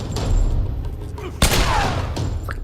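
Pistol gunfire in Tomb Raider: a few sharp shots, one loud crack standing out midway, over a dense bed of noisy game ambience.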